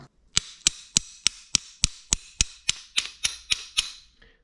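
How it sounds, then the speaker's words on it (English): Light hammer taps knock a tight rocker part off a classic VW flat-4 engine: about a dozen sharp, evenly spaced metallic knocks, close and crisp, with nothing else around them. "Just knocking it off very lightly"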